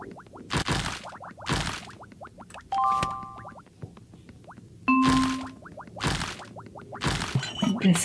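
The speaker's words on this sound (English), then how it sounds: "I have to get to all the 9 bells." Bell chimes in the Diggy's Adventure game, a few short bright dings spaced apart among repeated broad whooshing bursts and digging thuds, fairly loud with no talk.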